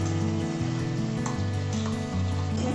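Paste of mustard, garlic, coriander, cumin and red chilli sizzles steadily in a pan for fish curry, a dense close frying hiss with low bubbling and faint stirring throughout, no talking.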